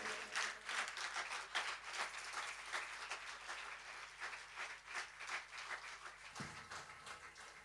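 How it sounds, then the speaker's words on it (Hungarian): A concert audience at a band's show in Bóly, Hungary, claps steadily in a dense, lively round of applause that carries on throughout, fairly close and without voices. "szeretnénk egy nagy tapsot kérni Popovics Péternek"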